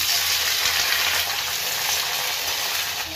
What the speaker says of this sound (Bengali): তেল গরম হয়ে গেছে, পাঁচ ফোড়ন দেবেন, কেটে লাল লাল কুঁদরুগুলো দিয়ে দেবেন।